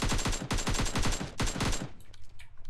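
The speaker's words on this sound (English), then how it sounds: "someone's shooting me" Rapid automatic gunfire from a PUBG Mobile match, a loud close burst of quick rhythmic shots, a brief gap, then another short burst before the shooting stops.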